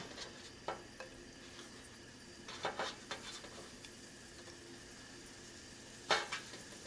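Korean mandu dumplings searing in oil in a nonstick pan give a soft, steady sizzle, with occasional light clinks and scrapes from a utensil against the pan.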